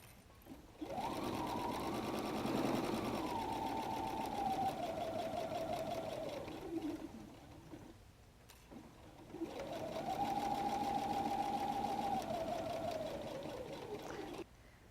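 A sewing machine stitches a messenger bag in two long runs separated by a short pause, the motor hum rising and falling slightly in speed, close and alone without speech.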